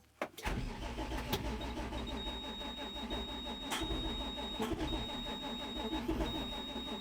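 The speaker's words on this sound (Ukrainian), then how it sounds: "Включив двигун і давайте зараз спробуємо його завести." A tractor engine cranks briefly and catches with difficulty, then settles into a steady, rough idle with occasional sharp pops, close by in a field and fairly loud throughout.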